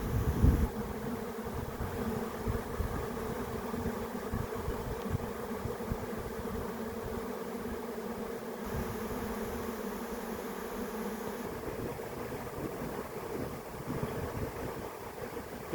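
A swarm of honey bees buzzes steadily outdoors, a dense continuous hum of many insects at moderate distance, with faint wind and no voices.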